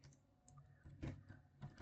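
Quiet, scattered keystrokes on a computer keyboard as a command is typed, a handful of soft clicks with short pauses between them and no voices.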